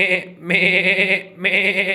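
A goat bleats loudly and close by, two long wavering cries split by a short gap, with nothing else behind them.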